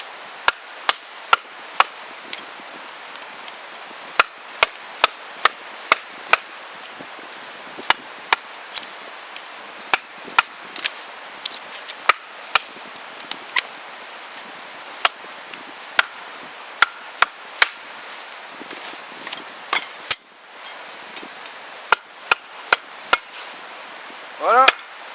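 Cold Steel Bushman Bowie knife chopping wood outdoors, a long series of sharp, loud, irregularly spaced blade strikes with brief pauses between and a quiet background.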